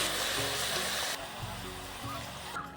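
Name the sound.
Malabar spinach stalks added to frying vegetables in pan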